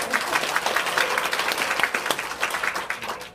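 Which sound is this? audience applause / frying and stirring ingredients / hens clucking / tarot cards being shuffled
audience applause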